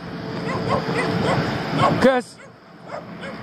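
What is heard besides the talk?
puppies growling and whimpering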